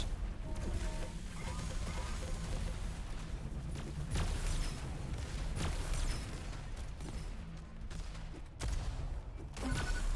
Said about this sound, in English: 100 rocket into the face, yeah, from such distance, it's interesting.